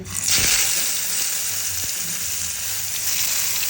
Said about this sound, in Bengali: ডিমটা ভাজার পর এখন বেগুন ভাজি